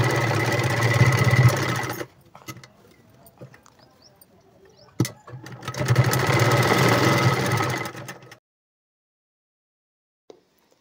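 A sewing machine stitches the side seam of a boat neck blouse in two loud, steady runs of rapid mechanical chatter, separated by a quiet pause with small clicks, then stopping.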